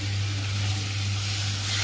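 Water poured into hot oil with cardamom, cloves and garam masala for pointed gourd sets off a loud steady sizzle over a low electrical hum, heard close and alone.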